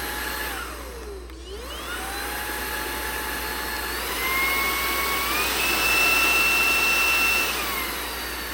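A Milwaukee M18 cordless vacuum whines steadily, dipping briefly then stepping up in pitch and loudness through its three speed settings.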